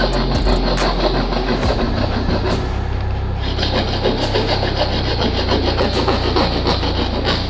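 A DeWalt hand saw rasps through wood in continuous, rhythmic back-and-forth strokes, close and loud, with no voices.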